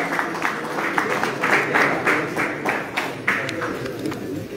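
Audience applause fills a prize distribution ceremony held by a high-flying pigeon club in Haripur: a steady crowd of clapping hands, dense and continuous with small swells, moderately close throughout.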